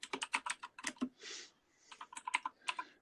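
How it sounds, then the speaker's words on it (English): Rapid clacking keystrokes on a spring-loaded computer keyboard come in close, crisp bursts, broken by a short soft rustle midway before the quick tapping resumes. "Man, listen to you typing away."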